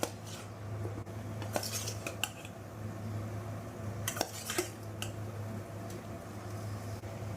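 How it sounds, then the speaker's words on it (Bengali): Green jackfruit cooking with spice masala in a pan: a spatula clinks and scrapes against the metal in scattered, irregular strokes over a low constant hum, with no voices. "ইঁচড়টা মশলার সাথে ভালো করে কষিয়ে নেব"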